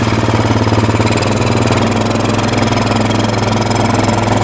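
A 2000 Kawasaki Lakota ATV engine runs steadily after a cold start, a loud close-up mid-pitched idle with a constant throbbing rumble and no pauses.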